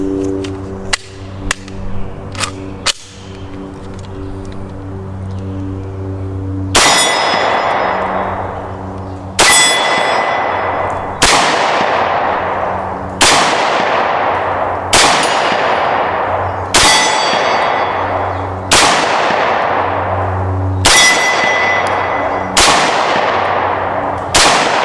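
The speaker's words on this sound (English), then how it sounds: "Nick just took the AB-10 for a ride" An Intratec AB-10 pistol fires about seven sharp single shots, spaced a couple of seconds apart, each with a ringing metallic tail, after a few lighter metal clicks and clanks at the start.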